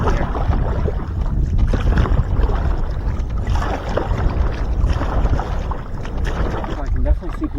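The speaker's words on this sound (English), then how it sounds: "A bit of a headwind down at the south end here." A steady, loud headwind blows across the south end of a lake while canoeing. Rough gusty rumble buffets the microphone throughout, with faint water movement and paddling noise beneath.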